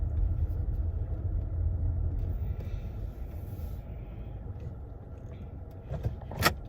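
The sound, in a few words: car being moved up in parking lot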